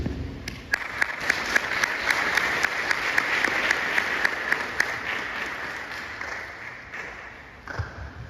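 Audience applause after a company president's speech at a CS Alpha event, a steady dense clapping from a sizable crowd lasting several seconds before tapering off, with no talk over it.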